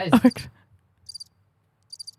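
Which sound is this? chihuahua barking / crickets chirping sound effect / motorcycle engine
crickets chirping sound effect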